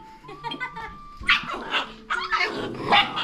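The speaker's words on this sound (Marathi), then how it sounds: "तिच्यावर भुंकू नका, त्यांना खाऊ द्या." Several dogs bark and yip in short, close bursts around a woman feeding oilcake to horses on a rural horse tour, the barking growing louder and more frequent in the second half.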